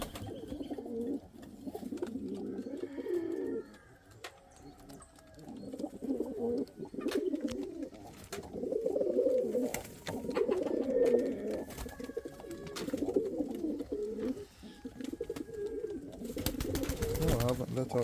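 Indian fantail pigeons coo in soft, repeated low phrases close by, with short pauses between bursts and a voice speaking at times.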